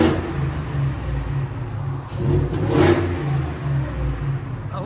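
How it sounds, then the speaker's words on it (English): A 725hp supercharged Ford F-150 with a 5.0L V8 and a Flowmaster Flow FX exhaust revs loudly nearby. Its throaty engine note climbs and falls with a whining supercharger layered over it. "I love that sound of the supercharger"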